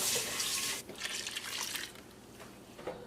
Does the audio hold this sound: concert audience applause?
no